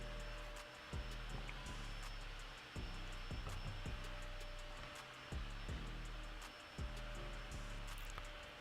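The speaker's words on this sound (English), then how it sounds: "We are listening to me in my house being vacuumed" Vacuum cleaner running indoors somewhere in a house, a faint, distant steady drone with a few soft knocks and bumps scattered through it.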